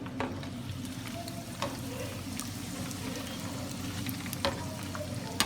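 Samosa rolls frying in oil in a pan over a low flame, a steady close crackling sizzle with occasional small pops and stirring clinks throughout.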